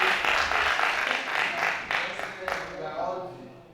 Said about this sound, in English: A round of applause for